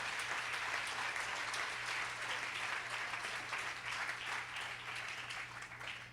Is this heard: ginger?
no